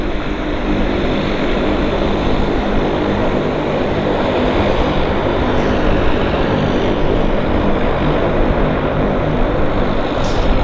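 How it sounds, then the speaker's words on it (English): Dash 8 turboprop at Vancouver airport, a loud, steady, close propeller and engine drone that holds without a break throughout. "These are kind of rare machines. Kind of rare. Baby Dash 8s."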